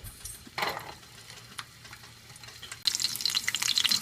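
Small onions and garlic hit hot sesame oil for a horsegram chutney, with scattered stirring clatter followed by a sudden loud, crackling sizzle that holds to the end.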